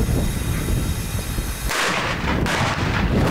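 Loud rolling gunfire booms in quick succession, echoing and rumbling continuously, a battery salute fired for the New Year.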